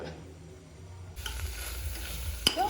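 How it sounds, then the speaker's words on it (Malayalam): Candied orange peel being stirred in a pan on the stove as the syrup cooks down, a steady close scraping and sizzling texture that grows fuller partway through, with a brief clink near the end. "ഇനി കൈവെക്കാതെ ഇടയ്ക്കിടയ്ക്ക് ഇങ്ങനെ ഇളക്കി കൊടുക്കണം."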